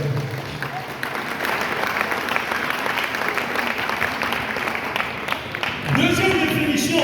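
A church congregation at a Sunday worship service in Pointe-Noire claps and cheers to acclaim the Lord, with dense, sustained applause throughout and a louder surge near the end.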